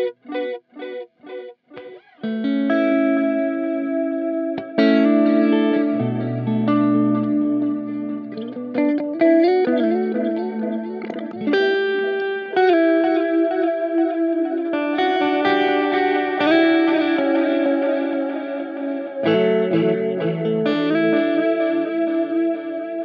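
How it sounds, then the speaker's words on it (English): Electric guitar played through a Boss DD-200 digital delay pedal set to one tape head with drive, clean picked notes and chords with a slightly gritty edge and repeating echo tails, loud and close with no talking. "I turned it then to the one head with drive. So a little bit of gain actually sounds fantastic."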